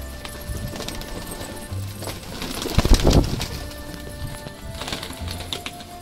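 Male pigeons coo and flutter close by amid a busy, noisy background, with a louder burst of activity partway through.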